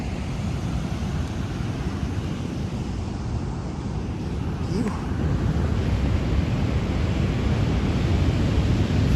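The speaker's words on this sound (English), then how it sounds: "Couple waves coming through up and down the beach." Surf rolling onto an open beach at a surf spot called the Gong, a steady broadband wash under gusting wind noise on the microphone, continuous and moderately loud throughout with no clear individual break.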